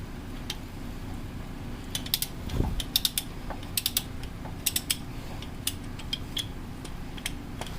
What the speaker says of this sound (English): with a 17mm socket, go ahead and remove the fill plug from over there